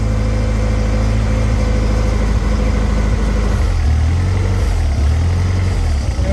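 I/O boat motor running steadily during carburetor winterizing, a loud close engine drone with a low throb that shifts slightly in pitch partway through.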